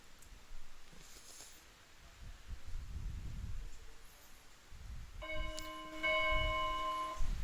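A bell rings with sustained, layered metallic tones from about five seconds in, over a quiet rustling background during a classroom maths lesson; no one speaks.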